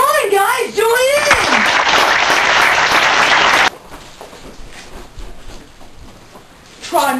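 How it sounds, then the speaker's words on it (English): A voice gives way to a few seconds of loud, dense applause that cuts off abruptly, leaving quieter room sound. "that deserves a round of applause!"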